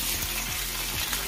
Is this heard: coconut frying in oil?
yes